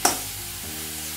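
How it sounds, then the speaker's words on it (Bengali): Chopped onions fry in a pan as slit green chillies drop in, giving a sharp initial hit followed by a steady, close sizzle with no talk. "পেঁয়াজটা ভাজতে ভাজতেই আমি এখানে চেরা কাঁচা লঙ্কাগুলো দিয়ে দিলাম"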